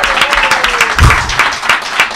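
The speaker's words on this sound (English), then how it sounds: "Ladies and gentlemen, can I get a round of applause?" Audience applause during a live stream opening a 1st Edition Pokémon box, a short burst of loud, close clapping with a few sharp hand claps standing out.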